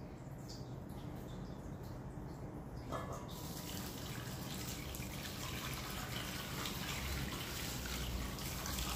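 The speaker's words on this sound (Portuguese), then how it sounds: "Eu acrescento água até a metade, essa água natural." Water is poured into a foot bath basin, a faint continuous splashing trickle that brightens and thickens after a few seconds and keeps a steady flow with no one speaking.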